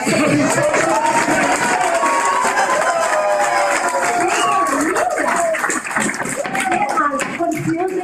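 A school board meeting crowd cheers and claps loudly throughout, with shouts and whoops layered over steady applause and voices mixed in.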